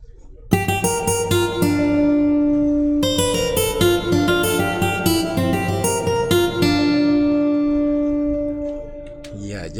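Bright, close electric guitar sample playing a rhythmic picked pattern with a steady bass pulse underneath, looping inside a Ugandan-style FL Studio beat, loud and continuous with no voices.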